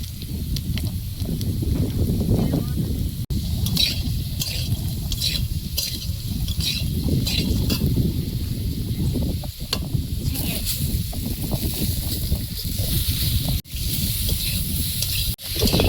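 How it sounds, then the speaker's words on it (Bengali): Ridge gourd and browned potatoes fry in a pan, a steady loud sizzle with repeated scraping stirs throughout, and faint background voices. "আলুটা লাল লাল করে ভেজে নিয়েছি, এবারে ঝিঙেটা দেবো"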